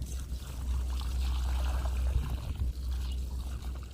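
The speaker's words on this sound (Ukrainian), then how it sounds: "Зараз полю водичкою, поки водичка вся впитається, а потім буду обсипати все корою." Rainwater poured from a container onto garden plants in a vegetable bed outdoors, a steady close trickling splash that runs without a break, with a low rumble underneath and no talking.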